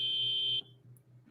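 Car horn blaring in The Crew 2 during a New York hypercar race lineup: a steady, loud electronic-sounding tone held for about half a second, then cutting off to quiet engine rumble and a brief click.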